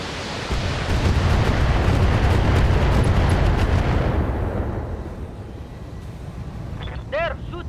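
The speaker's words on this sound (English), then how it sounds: "They're shooting at me." Heavy weapons fire and explosions pound a mech in a BattleTech game as a dense, rumbling barrage that fades after a few seconds, followed by brief electronic chirps.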